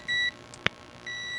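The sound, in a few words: continuity tester buzzer beep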